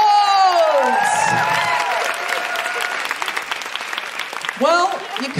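A comedy club audience applauds and cheers for comedian Alison Spittle, loud and close, with whoops and shouts rising over the clapping. A voice talks through it, and the cheering swells again near the end.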